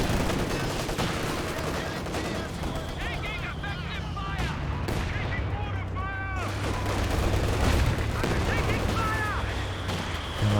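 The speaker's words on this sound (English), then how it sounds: "Jagdtiger up here doing a little bit of damage with this machine gun" Jagdtiger tank's machine gun firing in Company of Heroes 2, a 2v2 match: a dense, steady wash of gunfire and battle noise with scattered distant booms and rattles running throughout, mid-distance and continuous.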